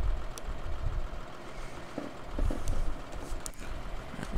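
The Case Magnum 310 tractor in Farming Simulator 2013 chugs at a steady low idle, with a knocking diesel rumble that swells slightly partway through, broken by a few faint clicks and no speech.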